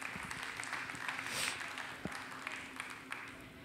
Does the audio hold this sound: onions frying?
no